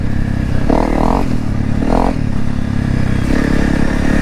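A Honda CRF 300 Rally with a full Yoshimura stainless steel exhaust idles loudly up close and is blipped three times in short revving bursts before settling back to a rough, rattling idle.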